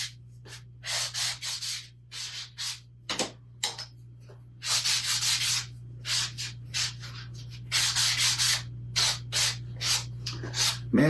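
An electric sander grinds carrots into slivers in repeated bursts, a close, harsh rasping that starts and stops over a steady low hum.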